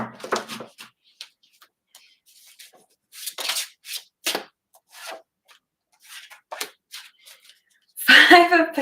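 A gold foil tarot deck is shuffled and handled in close, scattered bursts of crisp riffling and sliding cards, with pauses between and a louder, denser shuffle at the end.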